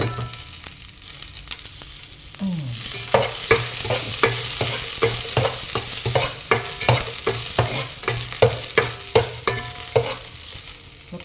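Garlic sizzles in a hot pan in a home kitchen, with a steady fry hiss under repeated sharp scrapes and knocks of a utensil stirring it, loud and close throughout.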